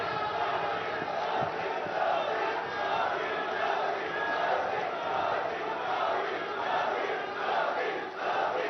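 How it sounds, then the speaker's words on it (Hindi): Dense applause and crowd noise fill a hall as an audience greets the Prime Minister at a hospital inauguration event in Mohali, a steady loud roar of clapping sustained throughout. "माननीय प्रधानमंत्री जी, जोरदार तालियों के बीच।"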